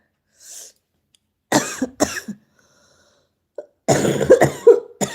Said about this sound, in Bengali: খুব কাশি হচ্ছে